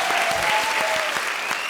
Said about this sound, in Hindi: जोरदार तालियां इनके लिए भाई